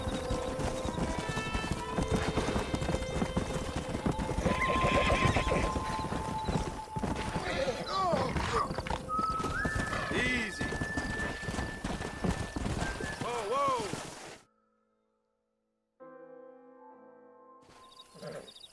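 Hooves clip-clop steadily with horses whinnying and snorting over them in the video game Red Dead Redemption, followed by a brief silence and then a short burst of game music.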